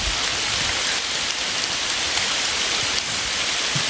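Steady, loud rain pours down without pause, a dense even hiss filling the whole stretch.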